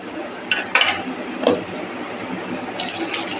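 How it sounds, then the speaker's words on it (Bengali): Boiled hog plums poured into a pot for a village-style amra chutney, a few wet splashes and sloshing plops landing in quick succession over a steady background hiss, close by and fairly soft. "আমড়াটা ঢেলে দিলাম বন্ধুরা"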